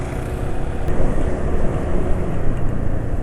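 A loud, steady engine idling close by after a change to Wealthy Vigorous 10W40 oil, a continuous dense rumble with slight fluctuations and no talking.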